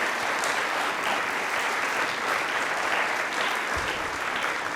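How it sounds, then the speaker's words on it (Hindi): Studio audience applauding the Australian cricket team on a television quiz show, a steady, full round of clapping from many hands that holds for several seconds without talk. "इसके लिए ऑस्ट्रेलियन क्रिकेट टीम के लिए तालियां एक बार जोरदार वाली होनी चाहिए"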